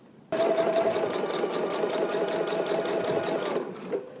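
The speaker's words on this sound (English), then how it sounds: "I'm going to watch right here to make sure that I have a straight stitch while I'm doing my understitching" A sewing machine runs a short, fast burst of understitching, its needle chattering in a steady rapid rhythm close by for about three seconds before slowing and stopping.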